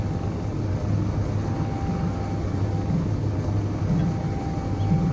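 Jetpack thrust in the game Space Engineers, a steady low droning hum with a constant engine-like tone, holding evenly and fairly loud throughout with no pauses.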